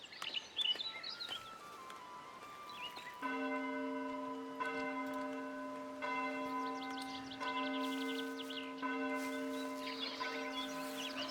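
A church bell in the video game Foundation tolls in a slow, regular series of ringing strikes, each sustaining into the next, with faint birdsong chirping in the background.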